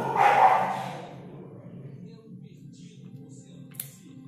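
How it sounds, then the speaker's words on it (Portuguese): Dogs barking in a home during an Avon Power Stay 24-hour foundation makeup test, a loud burst of barks at the start that quickly drops away to faint background sound. "os cachorros estão que estão"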